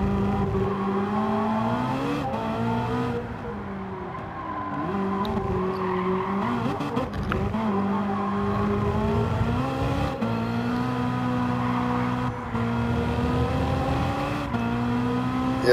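A Ferrari race car in Gran Turismo 7 revs hard through the gears, its engine whine climbing, dropping at each shift and climbing again, loud and close, with brief tire squeal in corners.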